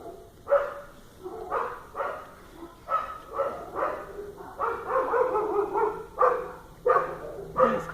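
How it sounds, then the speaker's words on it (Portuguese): Several dogs bark repeatedly at a distance at home, a rhythmic series of muffled woofs that overlap in the middle, with no talking. "Os cachorros estão enlouquecidos aqui em casa."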